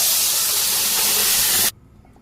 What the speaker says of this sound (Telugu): ఇగో మిక్సీ పట్టిన టమాటా గ్రేవీ ఇది దీంట్లో వేస్తున్నా.